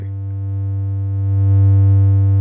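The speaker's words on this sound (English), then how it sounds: "So there's the triangle." A steady, buzz-free synthesizer triangle-wave tone, smooth and slightly hollow like a brightened sine, holding one low pitch and swelling a little louder partway through.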